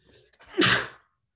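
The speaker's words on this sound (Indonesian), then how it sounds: "jadi mungkin aku agak bersin-bersin" A single sneeze bursts out loud and close after a short intake of breath, with no talking.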